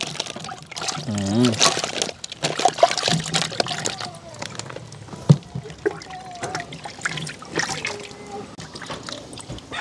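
Running water trickles and splashes over fruit being rinsed ahead of a smoothie with coconut milk, steady pouring close by with clatter of handling, while people chat and murmur over it.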